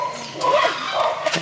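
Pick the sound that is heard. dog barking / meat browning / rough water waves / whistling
dog barking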